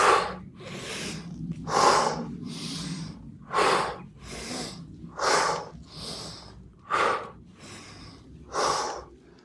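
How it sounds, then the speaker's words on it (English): Quick, deep breaths rush in and out through the nose and mouth during twisting aerial yoga moves on a suspension swing, about ten forceful pulses in a steady rhythm, close and clear with no talking. "we're breathing quickly and deeply and twisting around"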